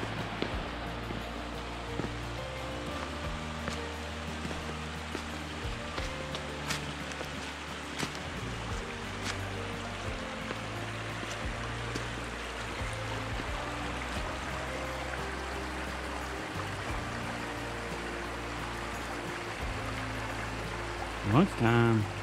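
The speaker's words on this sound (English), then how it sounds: "It's water running all down through there." A creek runs along a hiking trail with a steady, faint rushing of water throughout, while talk and movement sounds come in over it.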